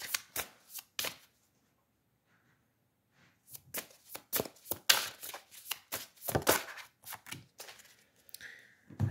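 Oracle cards are shuffled by hand close up, producing quick papery riffles and slaps in irregular bursts, with a quiet pause early on before more vigorous shuffling resumes.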